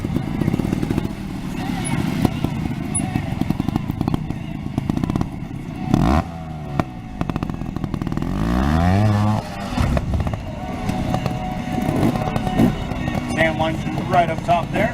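Motorcycle engine revving hard as a stunt rider drops the clutch to jump at an outdoor show, with a pyramid ramp and trailer. The loud, sustained engine and clatter rise and fall, with some speech nearby.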